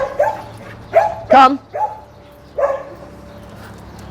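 A dog barks at another dog across a fence line, with a few sharp, close barks in an uneven series and a person speaking briefly between them.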